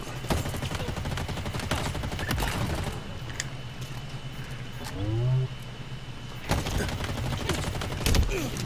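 Rapid gunfire in the multiplayer shooter Halo Infinite, dense crackling bursts with a few sharp louder shots and game effects, loud and close, with a voice talking briefly over it.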